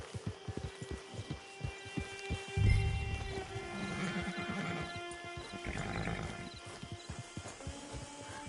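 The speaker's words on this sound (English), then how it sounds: "Hitch your horse." A horse in the video game Red Dead Redemption 2 Online snorts and whinnies at close range over soft hoof clops and a low hum, with game music tones underneath.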